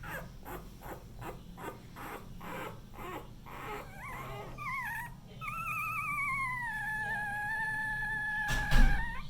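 A puppy's rhythmic whimpers and short yelps, then drawn-out, wavering whines and a low growl, close by with faint background noise.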